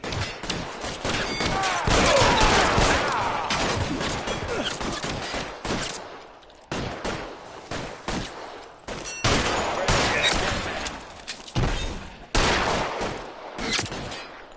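Tommy gun fire in the L.A. Noire video game: dense, loud bursts of automatic gunfire that stop and start in short volleys over about fifteen seconds, with brief quiet gaps between them.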